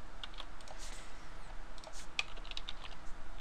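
C code is typed on a computer keyboard in quick irregular bursts of light clicky keystrokes, close and fairly quiet over a faint room hiss, with no one speaking.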